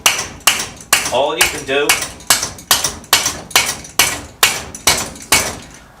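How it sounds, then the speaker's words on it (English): A rubber hammer strikes metal parts of a BM 250 trials motorcycle to knock them loose, about a dozen sharp, evenly spaced blows at close range, with a brief spoken remark between them. "So with a rubber hammer, no metal hammers, no screwdrivers in here, please, wedging them off"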